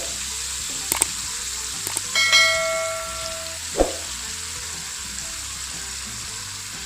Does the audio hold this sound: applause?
no